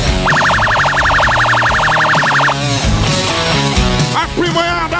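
A fast yelping police car siren warbles loudly for a couple of seconds amid loud music and crowd noise at a rodeo festival in Taquarituba, Brazil, then gives way to the busy mix.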